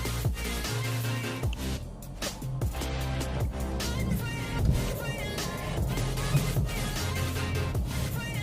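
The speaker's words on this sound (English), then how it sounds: "Hopping onto the car and we are going on for the drive" A Renault Kiger 1-litre turbo petrol engine with manual gearbox hums steadily from inside the moving SUV, a continuous low drone with faint shifting tones and no talking.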